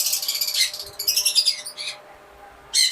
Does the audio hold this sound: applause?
no